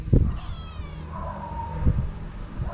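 A cat meows a couple of times at close range in a quiet setting near a cemetery, with soft thumps and low background noise between the calls.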